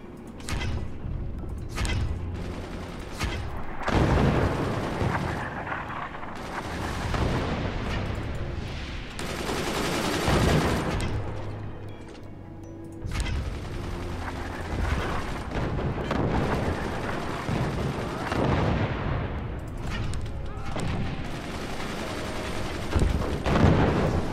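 Gunfire and artillery from the Forts game, Black Gold campaign with a big mortar platform: dense, continuous barrages of booming shots and clattering weapon fire, loud and sustained throughout with repeated heavy impacts.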